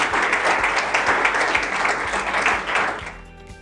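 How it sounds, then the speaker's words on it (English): Audience applause after a podcast interview on building a purpose-driven company, a dense steady wash of clapping that fills the room and then fades away near the end. "Can we give a round of applause one more time?"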